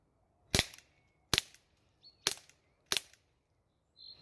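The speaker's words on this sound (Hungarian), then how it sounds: "Volt egy elég szép lövés" Four sharp airsoft gun shots crack close by at roughly even intervals outdoors, each a brief snap, with faint bird chirps in the background.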